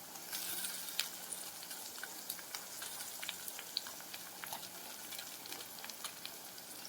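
Green chillies frying in oil in a pan for a beans and carrot curry give a steady, fairly soft sizzle with small crackling pops scattered throughout, with no voices.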